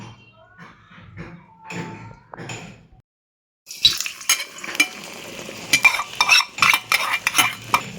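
Beaten eggs, lightly salted, hit hot oil in a pan for chowmein. A few quiet clinks and taps come first, then a brief silence, then a sudden loud, crackling sizzle that stays busy and spattering to the end.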